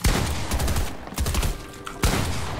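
Rapid video game gunfire from a disliked weapon, loud close bursts of shots with brief gaps and one sharp shot near the end, no voices over them.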